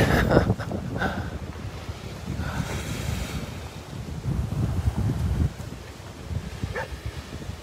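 Wind rushes and buffets against the microphone while ocean surf rolls and washes nearby, a rough continuous roar with a few gusty swells.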